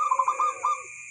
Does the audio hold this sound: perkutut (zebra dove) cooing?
yes